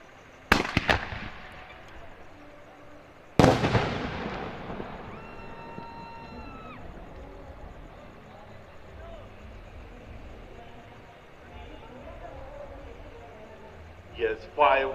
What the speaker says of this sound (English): Yes, fireworks are necessary now because till now we have seen the fireworks in the ground.